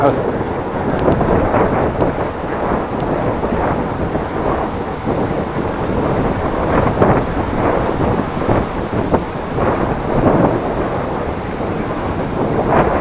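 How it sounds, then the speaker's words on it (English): A strong headwind buffets the microphone during a bike ride in Groningen, a constant loud rumbling roar with gusty swells that lasts the whole stretch. "Well, big headwind now."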